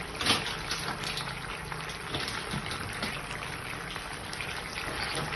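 Steady bubbling and crackling of liquid boiling in a pot, a dense, soft wash of small pops with no talking.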